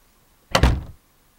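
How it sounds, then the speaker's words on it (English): A door is shut nearby with a single dull, solid thud that lands abruptly and fades within half a second, surrounded by near silence. "Shut the door."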